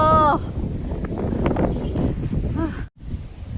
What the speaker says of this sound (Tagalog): Sobrang lakas ng hangin pero pilitin nating pumunta dito